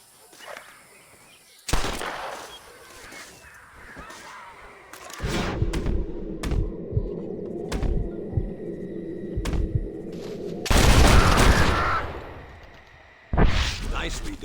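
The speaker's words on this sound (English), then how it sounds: "I'm gonna scare up some birds. Let's see if you can take down more than one at a time." Sharp gunshots crack out in bursts while flushed birds scatter during a bird-shooting challenge in Red Dead Redemption, a few spaced blasts over low rumbling ambience and a flutter of wings.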